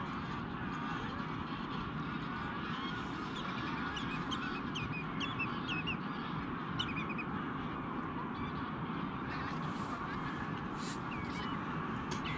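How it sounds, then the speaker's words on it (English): Hundreds of Canada geese take flight at night over an island on the River Clyde, filling the air with continuous overlapping honks and wingbeat rustle, calls scattered throughout at moderate distance. "Hundreds of Canada geese have just taken flight over New Shot Island."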